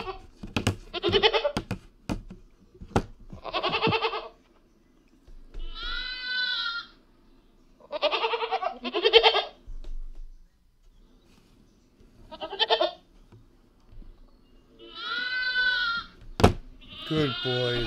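Goats bleat repeatedly while being fed on a farm, several loud wavering calls spread across the stretch with pauses between, near and clear, with a few sharp knocks and some people talking.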